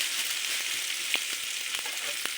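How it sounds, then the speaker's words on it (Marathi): Vadi fritters fry in hot oil with a continuous close crackling sizzle, punctuated by sharp pops and spits, with no talking. "आता तेलात तळण बहुते."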